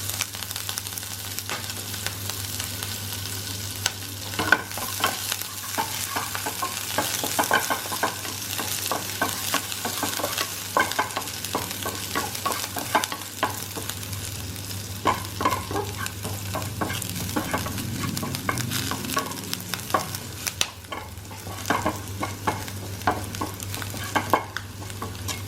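Garlic and green chilies fry in hot oil in a pan, a continuous crackling sizzle with scattered pops and occasional scraping as the ingredients are stirred, steady and close for the whole stretch with no talking.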